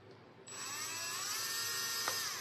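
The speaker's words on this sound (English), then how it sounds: "drill a hole right here and then roughly on the same side or opposite side" A power drill whines into a gourd, starting abruptly and holding a steady high-pitched drone with a wavering pitch as the bit bites, fairly close and alone.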